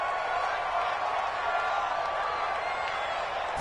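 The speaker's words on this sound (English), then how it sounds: "the crowd getting into it as we come up on a big 3rd" A stadium crowd in a football video game roars steadily, a dense, loud, unbroken wash of cheering that holds for several seconds without a break.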